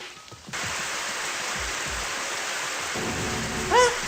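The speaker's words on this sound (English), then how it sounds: "Is it raining inside or something I can't see?" Steady hiss of water spraying from indoor sprinklers in Super Danganronpa Another 2, like heavy rain, starting abruptly and continuing evenly, with a faint tonal blip near the end.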